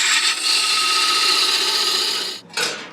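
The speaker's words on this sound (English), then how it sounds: "now I'll part it off at the bottom of that tenon" Turned wooden box being parted off at the bottom of its tenon on a lathe: a loud, steady, high scraping cut that runs for over two seconds, breaks briefly, then resumes in a short final burst.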